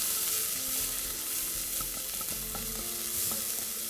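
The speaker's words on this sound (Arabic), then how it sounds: "بحمر البصل مع الثوم" Onion and garlic frying in a little oil in a pot, a soft steady hiss with a few light scrapes and taps of a spoon partway through, quiet and without speech.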